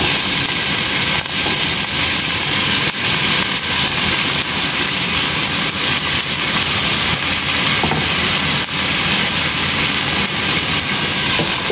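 Ginger, onion and garlic sautéing in a hot pan for pork belly with chestnut and black fungus, a steady loud broadband sizzle running unbroken throughout with faint stirring scrapes.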